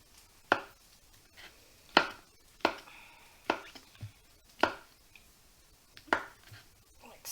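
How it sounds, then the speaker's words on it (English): A kitchen knife chops mushrooms on a board in sharp, evenly spaced strokes, about one per second, close and clear with quiet pauses between them. "So I'm gonna quickly chop these mushrooms without chopping my fingers."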